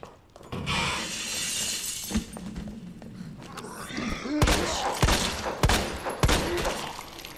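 Gunshots ring out in the video game Resident Evil 2 Remake, a series of sharp, loud reports, some closely spaced, mixed with glassy crashes and heavy thuds over a busy game soundscape.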